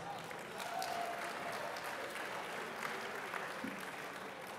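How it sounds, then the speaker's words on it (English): At the 2010 U.S. Bicycle Hall of Fame induction ceremony in Davis, an audience gives a round of applause, a dense, even wash of clapping from a crowd that holds steady for several seconds. "a round of applause for the city of Davis for hosting us"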